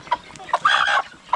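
Native chickens cluck close by on a farm, with short sharp clucks at the start and end around a longer, louder squawking call in the middle.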